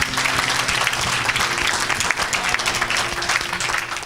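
A church congregation applauds Jesus Christ, with steady, loud, sustained clapping from many hands filling the room, with a faint voice beneath the applause.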